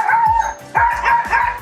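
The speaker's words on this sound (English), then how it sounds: "I don't know why you bark every single day" A dog gives a quick string of high yips and barks, close and loud, at its owner arriving home.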